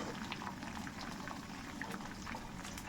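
Curry leaves frying crisp in hot oil, a steady close bubbling sizzle with fine crackles running throughout, fairly quiet and with no talk.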